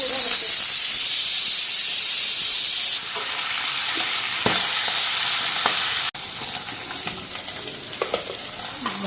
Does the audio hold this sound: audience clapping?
no